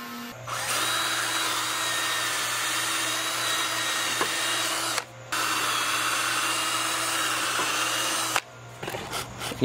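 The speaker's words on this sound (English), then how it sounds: "somebody's mowing their lawn or blowing their leaves every time I'm making a video" A neighbour's leaf blower or lawn mower drones loudly and steadily outdoors near a worm composter build. The noise cuts out abruptly twice, and no one speaks.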